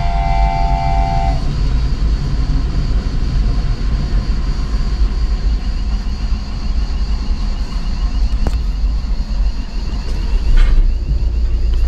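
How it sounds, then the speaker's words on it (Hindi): A train rolls past a closed level crossing in Greece, its heavy, continuous rumble and clatter loud and close, opened by a short horn blast and with faint clanks later. "फाटक बंद हो गई जी, ट्रेन जा रही है जी।"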